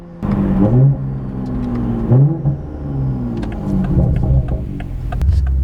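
2020+ Toyota Supra with an ETS 4-inch Extreme Pro Series exhaust, deep loud rumbling revs rising and falling several times close by, with faint clicks and noises in the background.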